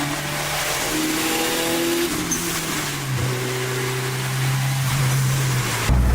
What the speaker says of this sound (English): we are driving the Monster Tango right now